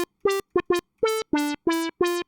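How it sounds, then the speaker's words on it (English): A wavetable synth note pulses with a funky wah, its filter sweeping in eight short rhythmic stabs, loud and close with brief gaps between. "that's why it's the funky wah"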